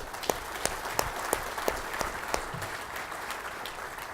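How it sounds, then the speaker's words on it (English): An audience at a company keynote applauds steadily, dense clapping close and even for the full few seconds, with a few sharper individual claps standing out. "So if you'd help me by giving them a big round of applause to say thank you."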